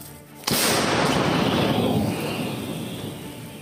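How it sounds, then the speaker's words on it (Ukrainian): One sudden, loud gunshot blast, followed by a long, rolling roar of echo that slowly fades. No other shots follow. "Постріл!"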